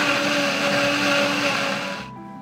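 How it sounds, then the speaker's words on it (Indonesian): A blender whirs loudly and steadily, grinding a thick spice paste of shallots, shrimp paste and oil, then the motor winds down and fades near the end. "Kita blender sampai halus ya."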